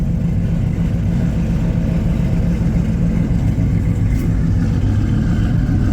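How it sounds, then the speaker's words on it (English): A car engine runs at a car show, a loud, steady low rumble close by with no pauses, alone without talk. "you hear the car, you hear the car running"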